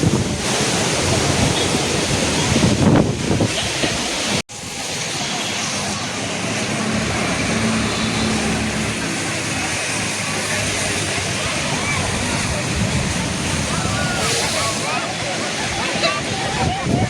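Strong wind and crashing waves roar without letup along Marine Drive in Mumbai during heavy monsoon rain, loud and close, with a brief break in the middle and a voice talking over the surf.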